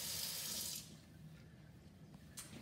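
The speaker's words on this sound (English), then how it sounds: "We added this touch faucet." Water runs from a touch faucet into a farmhouse kitchen sink as a steady splashing hiss that stops abruptly, leaving a faint room hum and a small clink.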